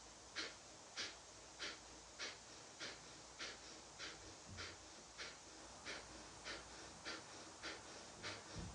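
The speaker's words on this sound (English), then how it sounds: "You're breathing in through your nose, out through your nose." Rhythmic, forceful breathing in and out through the nose during a morning breathwork practice: quick, evenly spaced sniffing puffs repeat about every half second, close and alone, like a steady chugging pattern.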